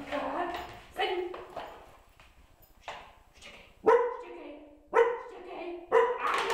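A young dog, four months old, barks on command in sharp single barks spaced about a second apart, close by, mixed with a person's encouraging speech between them.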